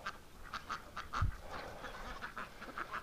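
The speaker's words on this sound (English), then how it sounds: "the geese are hogging the tub" Repeated honking calls from several geese sharing a water tub in winter snow, fairly close, with a brief low thump midway and a background of shuffling and splashing.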